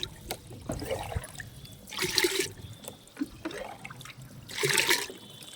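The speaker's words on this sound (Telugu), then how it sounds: "దీని నిండా వాటర్ వేసుకుంటున్నాను నేను" Jaggery water trickles and splashes into a container being filled to water plants. It comes in two louder gushing bursts between quieter dribbles, close and fairly soft, with no speech.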